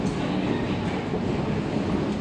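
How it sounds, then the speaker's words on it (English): A Glasgow Subway train rumbles steadily from inside the carriage, a loud continuous roar of wheels and motor with faint rhythmic rattling and no talking. "I am going to be riding the Glasgow Subway for myself for the first time"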